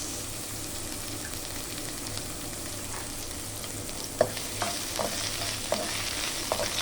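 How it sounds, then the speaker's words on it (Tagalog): Onions sautéing in hot oil give a soft, steady sizzle at moderate distance, with a few light clicks and scrapes of stirring near the end. "painit na tayo ng mantika guys, magigisa na tayo. Ayan, lagyan na natin yung sibuyas"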